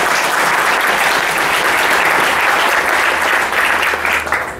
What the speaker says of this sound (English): Let's get a big round of applause for Michael Hausenblas